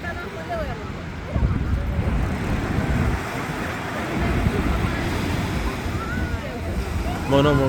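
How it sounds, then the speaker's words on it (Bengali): Rough sea waves crash on Cox's Bazar beach at night: a continuous broad wash of surf and wind noise, with faint voices in the background. "আর সমুদ্রটা অনেক উত্তাল, খুব ভালো লাগে ঢেউগুলা।"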